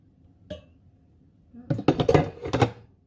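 A spoon stirs coffee with caramel in a large mug, one light clink followed by a quick run of rattling clinks against the ceramic, close and clear.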